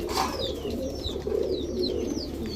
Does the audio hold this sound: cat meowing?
no